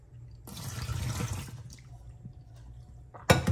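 Water pours out of the emptied water tank of a Jura ENA 4 coffee machine and is rinsed at a sink, a steady close splashing stream lasting about a second before a quieter pause and a short burst at the end.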